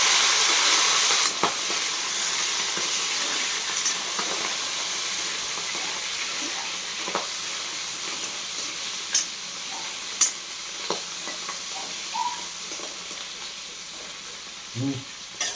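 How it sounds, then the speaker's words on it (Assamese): Eel and dried chillies fry in hot oil in a pan, giving a loud, steady sizzle that slowly eases, with occasional clinks and stirring scrapes and no talking. "এয়া মই শুকান জলকীয়া দিলোঁ, আৰু এই কুচিয়াটো দিলোঁ, কুচিয়াটো ভাজি আছোঁ"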